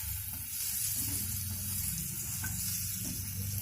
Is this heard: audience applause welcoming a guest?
no